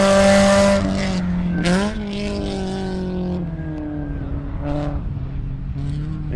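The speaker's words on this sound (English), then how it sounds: "And here comes the Camry through the kink for the first time under speed" A Camry race car sweeps through the kink at speed, its engine note rising and falling with gear changes, near and loud. Tires squeal and a second engine pass rises briefly.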